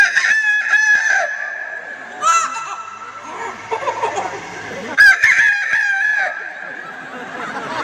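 A person imitates a rooster crowing, giving a loud, drawn-out cock-a-doodle-doo call, then repeats it after a pause, with the voiced crowing strained and close to the mic and brief background chatter between calls.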